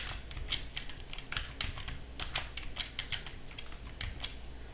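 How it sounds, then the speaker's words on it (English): Password being typed on a computer keyboard during a software install, a steady run of light, quick key clicks close up with no talking. "I gotta type it again."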